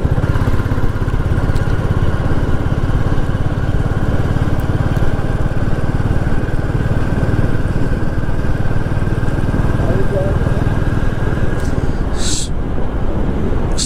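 A motorcycle engine drones steadily and loudly throughout on a road between hills near Garh Panchakot, with a sharp clatter near the end.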